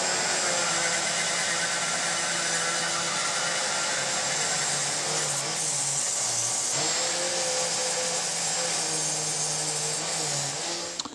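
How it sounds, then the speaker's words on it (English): A small grinding bit in a rotary tool cutting metal from an engine combustion chamber, a loud sustained high-pitched whine whose tone dips and rises as the bit loads against the surface, close and steady until it winds down at the end. "I'm going to take a little bit out of here and a bit out of there with just a small grinding bit."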